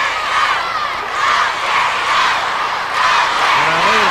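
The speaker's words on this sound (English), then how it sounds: "the roar begins to come, the chant, go, Terry, go" A professional wrestling arena crowd roars in a dense, loud, sustained wall of voices that swells and dips in waves, with shouting rising out of the mass.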